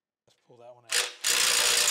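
A ratcheting wrench loosens a bolt on the pump unit of a Rogers 60-ton hydraulic press, with harsh rapid clicking that starts loud, pauses briefly, then runs steadily close by after a short voice.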